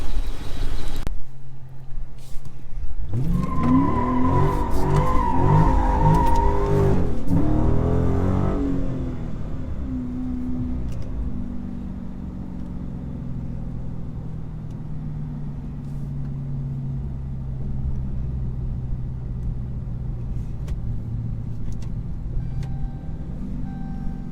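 A 2023 Dodge Charger Scat Pack with a swapped engine roars and revs hard for several seconds, exhaust rumbling loudly, then settles into a steady low idle that drones on.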